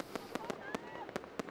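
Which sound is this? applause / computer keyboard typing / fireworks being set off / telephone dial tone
fireworks being set off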